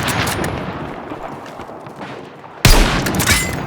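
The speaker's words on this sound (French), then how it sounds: "les tirs que je fais, gros" Rapid bursts of automatic gunfire from a player's weapon in the Warzone video game crackle in a dense, loud barrage, easing off before a sharper, louder burst near the end.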